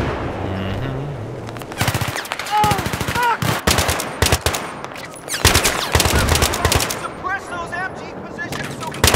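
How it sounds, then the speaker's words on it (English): Sustained automatic suppressing fire in Battlefield 3 during a campaign mission, loud rapid rattling bursts across the whole stretch with short gaps, while people shout and talk. "Suppressing fire right here."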